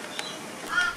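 Crows cawing outdoors, a couple of brief faint calls heard at a distance against quiet ambient background.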